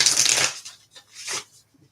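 Tarot cards being shuffled by hand, a crisp riffling burst followed by a second shorter flurry, close and moderately loud with no talking.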